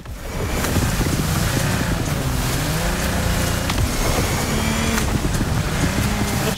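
Motorboat cruising out onto a large reservoir in the racing game The Crew Motorfest, a steady loud engine drone with rushing water and wind noise throughout, no pauses.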